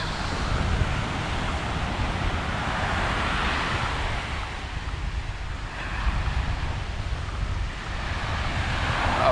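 Wind buffets a handheld GoPro Hero 7 at Nha Trang beach, a loud, constant rumbling gust noise over the wash of surf, swelling and easing with no talk.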